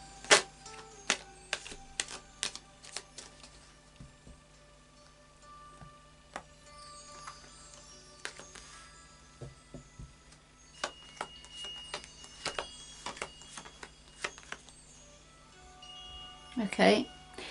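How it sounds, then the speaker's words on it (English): Crisp, irregular clicks and flicks of a Light Seer's Tarot deck being shuffled up close, with a louder riffle near the end; faint talk underneath. "I'll just do a final shuffle of the Light Seer's Tarot for you."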